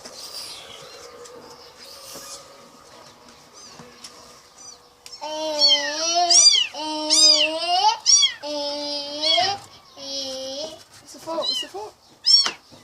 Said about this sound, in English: Very small cat,